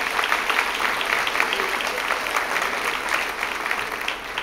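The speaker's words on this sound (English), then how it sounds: "I would invite you to have a round of applause for your neighbor for having the moral courage to be here tonight" An evening audience applauds their neighbours at a community meeting, a steady wash of clapping from many hands that carries evenly from start to finish.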